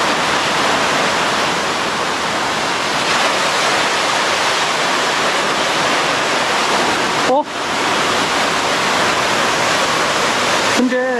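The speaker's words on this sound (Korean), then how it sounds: "옆에 폭포물이 쫙 떨어지면서 불상이 보이니까" Elephant Waterfall in Da Lat roars as a heavy, steady wall of falling water, loud and close, continuous throughout with only a brief dip, and a voice speaks faintly beneath it.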